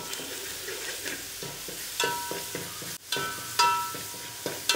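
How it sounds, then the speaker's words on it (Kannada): Ginger-garlic paste fries in hot oil with curry leaves, giving a close, crackling sizzle broken by rhythmic scraping of a spoon stirring the pan, loudening in bursts as the paste is turned. "ಇದು ಚೆನ್ನಾಗಿ ಫ್ರೈ ಮಾಡಬೇಕು ಎಣ್ಣೆಯಲ್ಲಿ"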